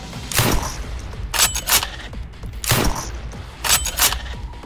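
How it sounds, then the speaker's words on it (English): Bolt-action rifle shots in the shooter game Quake 4: four sharp, loud reports at irregular intervals, each followed by a brief mechanical clatter of the bolt being worked, over a low game ambience. "You get a point for making the rifle sound good. The bolt action."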